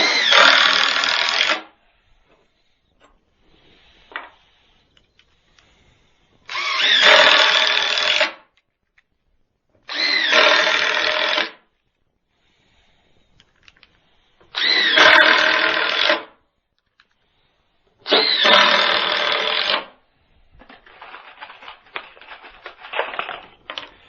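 A power drill driving screws into wood while building a vertical garden planter, five loud bursts of whirring a second or two long separated by quiet pauses, then a softer rattling run at the end.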